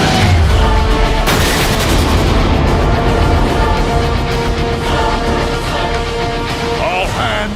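Weapons fire on tow cables in a Transformers Cybertron game, a loud, dense barrage of booms and rapid blasts that continues throughout with no break.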